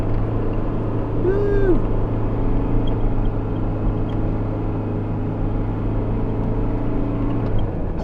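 Land Rover engine droning steadily as it climbs a sand dune hill near Walvis Bay, Namibia, a constant low rumble throughout with a brief excited shout partway in.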